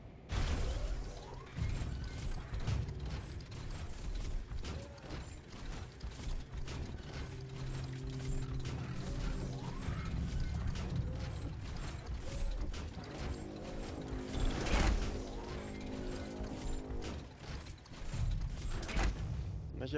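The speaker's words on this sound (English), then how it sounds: "grind those metal gears" Metal gears grinding and ratcheting in the Biomutant video game, a continuous clanking mechanical churn with creaks and rhythmic clicks, steady and dense throughout.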